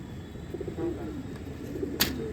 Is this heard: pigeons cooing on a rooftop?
yes